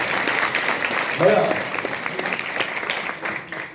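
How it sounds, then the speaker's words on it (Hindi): Audience clapping at a motivational seminar in Aligarh, a burst of moderately loud applause with talk running over it throughout. "एक बार जोरदार ताली बजाओ"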